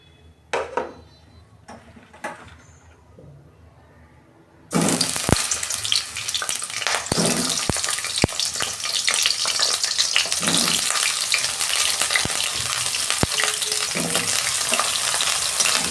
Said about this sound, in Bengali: পটল আর আলুটা আমি ভেজে নেব